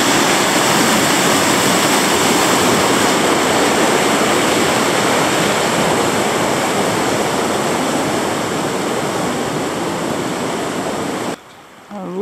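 Rushing river water roars steadily near a swing bridge along the Overland Track, a loud, close, continuous wash that cuts out abruptly near the end.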